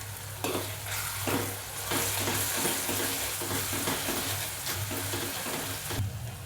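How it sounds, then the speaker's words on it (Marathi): Onions sizzling in hot oil in a pan for a peas and potato bhaji, with a spoon scraping and stirring in a steady irregular rhythm over the constant frying hiss, close and fairly loud. "कांदा आता चांगला परतला"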